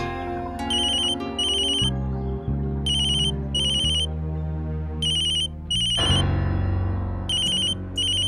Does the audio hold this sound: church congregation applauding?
no